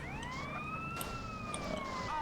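A police car siren wails in GTA San Andreas, its tone rising and falling in long, steady sweeps over a low engine rumble, with no talking.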